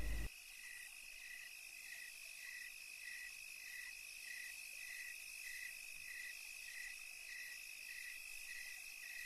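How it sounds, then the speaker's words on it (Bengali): Crickets chirp at night in a pitch-dark jungle, a steady, evenly pulsed trilling that continues throughout at a moderate distance, with no voices. "নিশি কালো অন্ধকারের মাঝে শুধু ঝিঝি পোকার ডাক কানে ভেসে আসছে।"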